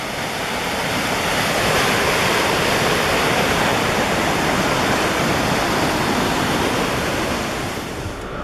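Steady, roaring rush of a waterfall near Lake Placid in winter fills the whole clip, loud and constant with no breaks or voices.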